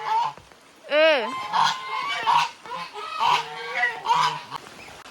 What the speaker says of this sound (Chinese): 游的这一对大鹅夫妇，嗓门特别大，大鹅又在吵架了。